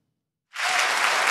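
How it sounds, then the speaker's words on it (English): After a brief silence, a town hall audience suddenly bursts into loud, sustained applause, a dense wash of many hands that holds steady to the end. "Applause for the answer."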